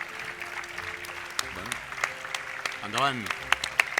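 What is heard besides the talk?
audience applause for the chef team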